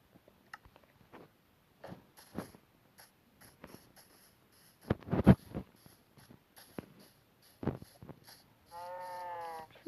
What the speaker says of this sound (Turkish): burada iki tane koyun var